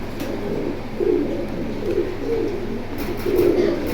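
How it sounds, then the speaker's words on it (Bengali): Jabra silver pigeons coo in repeated low, soft bursts close by, with a steady faint background hum and no talking. "জাবরা সিলভার কবুতর দেখতেই পাচ্ছেন"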